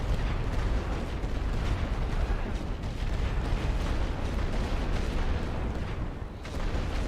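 Sustained artillery barrage in The Great War: Western Front, a dense, rumbling wash of distant blasts and booms rolling on for several seconds at an even level, with no voices.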